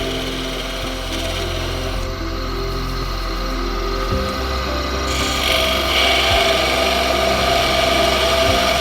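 A 1/16-inch parting tool cuts into wood spinning on a lathe while turning a honey dipper, giving a steady, close scraping and rubbing hiss that runs continuously, growing a little brighter and louder partway through.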